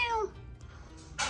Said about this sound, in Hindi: पर्शियन बिल्ली।